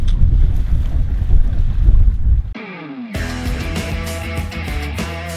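Strong wind roars across the microphone with rushing water as a traditional sandeq sailboat moves off Majene, Indonesia, then cuts abruptly to a different scene with music.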